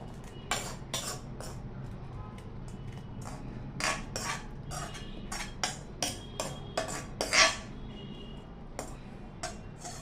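A spoon scrapes and clinks as sweet raw-mango gulamba is transferred into a steel container, a string of irregular metallic taps and knocks over a low background hum.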